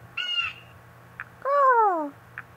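A bird calls in the video game Windosill, giving two loud harsh cawing cries, the second longer with a falling pitch, set against soft ambient noise with faint short chirps between.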